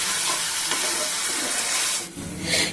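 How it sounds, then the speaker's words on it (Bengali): Spices for a cauliflower kofta curry sauté in a pan, a loud continuous sizzle and hiss that dips briefly before surging again, with no talking. "দেখুন আমি এখন এগুলোতে সব কষিয়ে নেব"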